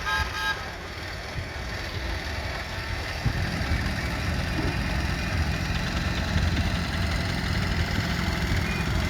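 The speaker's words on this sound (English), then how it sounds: "Foster traction engine." A Foster miniature traction engine runs at a steady idle-like chug at a miniature traction engine parade, a constant mechanical rumble heard close by with outdoor crowd murmur beneath.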